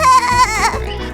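Cartoon baby goat bleating, a short wavering high-pitched bleat close up and loud, with no talking over it.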